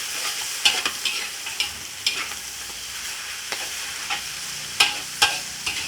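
Flat rice noodles for pad see ew stir-fry over high heat with a steady sizzle, broken by repeated sharp scrapes and knocks of a spatula as they are tossed and flipped.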